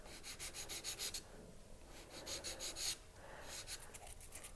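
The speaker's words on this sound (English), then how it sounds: "On the other side, we're going to sand this end." End of a greenware silver clay ring being sanded, quick rhythmic back-and-forth scratching strokes in two runs with a short pause between, close but faint.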